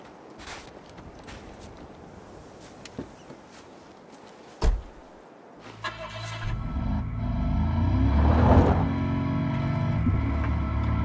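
In the Battlefield Hardline video game, a car door thumps, then the engine cranks, fires and revs up into a loud, sustained drive, following a few faint footsteps and quiet shuffling.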